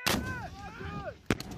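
A sharp, loud rocket launcher blast opens, followed by a whistling whoosh that trails off, then another sharp report near the end.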